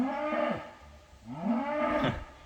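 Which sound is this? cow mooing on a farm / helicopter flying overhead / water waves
cow mooing on a farm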